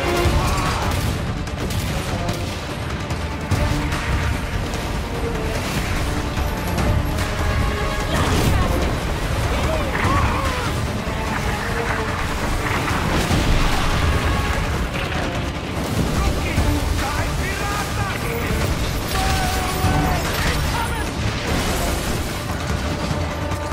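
Ship cannons fire in a naval battle in Skull & Bones, heavy booms and crashes rolling continuously under dense battle noise, with a narrating voice over the top.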